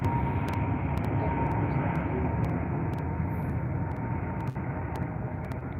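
An Airbus A321 takes off at London Heathrow, its steady, broad jet roar holding loud and constant, with faint clicks and handling noise over the top.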